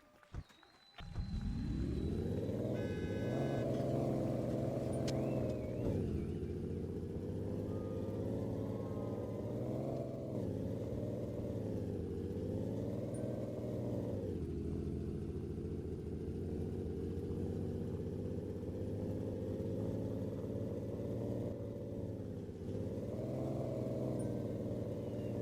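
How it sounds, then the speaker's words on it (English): A car engine in a racing career-mode game starts and settles into a steady, loud running drone, its pitch rising and dipping gently with throttle over a long stretch. "we gotta start the engine, make sure this bad boy is in the green"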